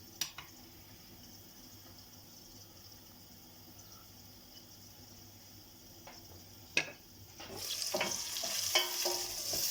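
Onions frying in a pan for an okra dish make a faint, steady sizzle with a few isolated stirring clicks, then the frying swells louder and busier near the end. Nobody speaks.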